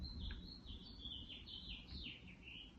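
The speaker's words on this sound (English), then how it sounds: "Do you hear the birds?" Several high, quick bird chirps and short tweets repeat at irregular intervals outdoors, fairly faint over a low background rumble.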